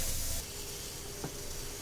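Steam hissing out from under the coconut shell of a Kerala puttu steamer cooking rice puttu, a soft steady hiss that is louder at first, then settles, with one small clack.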